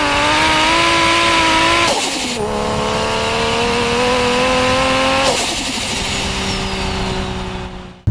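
A 450 hp Toyota Chaser Tourer V with a 1JZ engine revs loudly and up close, holding steady tones with two sharp shifts in pitch before the sound fades out at the end.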